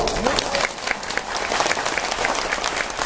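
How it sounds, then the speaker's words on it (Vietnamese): Seminar audience at a talk on the wealthy mindset breaks into lively applause, many hands clapping in a dense crackle throughout with a faint murmur of voices mixed in. "you can give that a round of Có applause"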